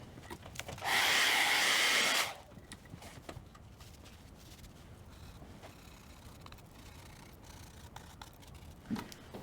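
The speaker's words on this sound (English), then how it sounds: "I'm going to hit it with the blow dryer." A blow dryer drying stencil paint runs in a short, loud, steady whoosh of about a second and a half near the start. Quiet handling noises from the stencil work follow.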